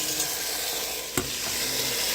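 Cut, washed mixed vegetables for veg pulao hitting a hot pan, a continuous loud sizzle with one sharp clink of a utensil partway through.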